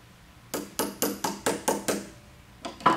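A three-quarter wrench and ball housing tool ratchet a valve ball housing tight on a Crown PTH50 hydraulic unit, heard as a close series of about nine sharp metallic clicks in a steady rhythm, with a brief pause before the last ones.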